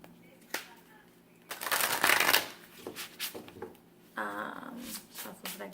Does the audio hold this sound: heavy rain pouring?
no